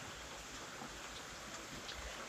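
Rain falls outside as a faint, even hiss that stays steady with no distinct drops or voices.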